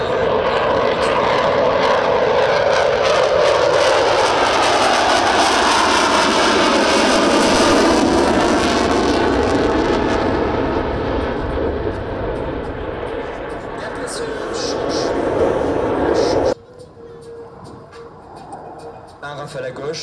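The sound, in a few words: Rafale fighter jets at an airshow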